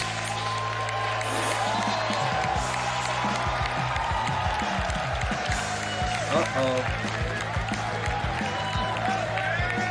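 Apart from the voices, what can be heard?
audience applauding for the Splatoon 2 producer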